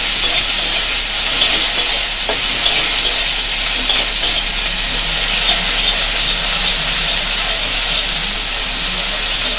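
Onions frying in a pan over low flame until reddish, a loud, continuous dense sizzle and hiss, close up and unbroken throughout.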